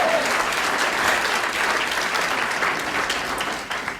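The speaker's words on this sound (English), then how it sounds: "We can applaud that." A crowd at a breast and ovarian cancer support event bursts into sustained, dense applause that holds steady and then tapers slightly at the end.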